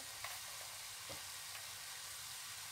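Keema mince fries in a pan for spaghetti sauce, giving a faint, steady sizzle with occasional soft stirring scrapes and no talk.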